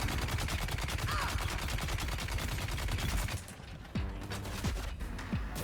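Rapid bursts of plasma cannon fire in a video game crackle continuously, then a few heavier blasts ring out as the barrage thins near the end.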